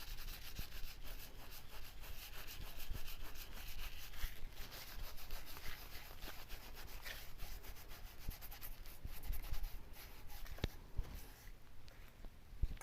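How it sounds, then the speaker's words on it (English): Tissue paper rubbed steadily over a design on a candle holder to burnish it in, giving a continuous close, dry rubbing and scuffing sound with no talking. "We just want to burnish this design in."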